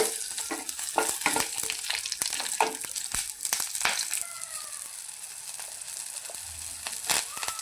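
Grated coconut roasting in a little oil in a pan, a crackling sizzle broken by repeated scraping and stirring strokes, busier at first and then easing to a quieter fry.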